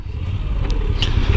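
A Moto Guzzi V7 Stone motorcycle on a test ride, its engine giving a low, steady, fairly quiet rumble with a little mechanical clatter throughout.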